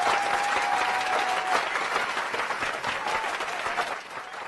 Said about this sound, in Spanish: Aplausos, desde luego, aplausos.